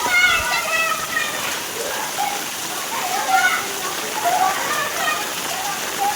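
Heavy monsoon rain falls on a village square, a steady broad hiss of drops spattering on surfaces, with a few high chirps and faint voices scattered over it.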